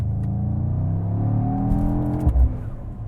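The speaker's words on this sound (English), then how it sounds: "You definitely hear blow off valves on this, or bypass valves." A 2024 Mercedes-AMG GT63 S 4-Door Coupe with a valved exhaust drones steadily from close by, its engine note climbing, then a brief whooshing blow-off burst near the end. No one speaks.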